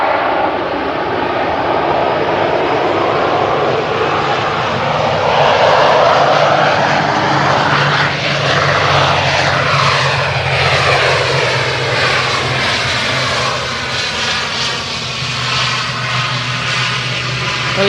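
A Ryanair jet from Vienna in a loud special livery lands at Manchester Airport, its engine roar loud and close, sweeping steadily with a shifting whine over about eighteen seconds.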